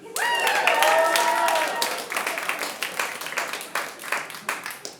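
A standup comedy audience claps steadily for several seconds, a dense patter of applause that thins out toward the end, with a brief vocal sound at the start.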